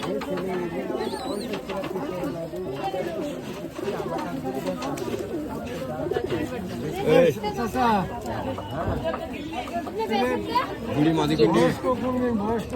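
Low coos and flock chatter from native pigeons at a pigeon market in Bangladesh run throughout, mixed with steady nearby talking from people.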